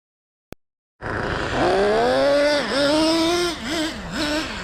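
A Traxxas Revo 3.3 nitro RC truck engine fires up after a short click and runs loud and close, its high buzzing pitch rising and dipping with several quick throttle blips.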